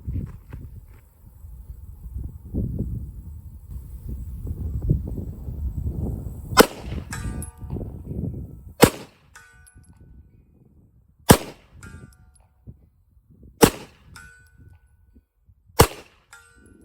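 Five sharp metallic rounds ring off a steel full-size IPSC target at 100 yards from a CZ TS2 pistol, each distant clang spaced a couple of seconds apart after a stretch of low rumbling handling noise.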